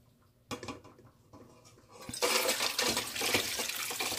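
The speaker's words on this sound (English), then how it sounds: "So I am straining my sorrel." Homemade Jamaican sorrel drink being poured through a sieve, starting with a few faint drips and clinks, then a steady louder splashing stream of liquid that continues to the end.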